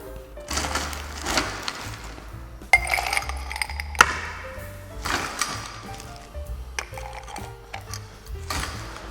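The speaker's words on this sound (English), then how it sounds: "Grab a rocks glass filled with ice." Ice in a rocks glass clinks and rattles in several irregular bursts of sharp, close glassy knocks while a Whiskey Smash cocktail is being prepared.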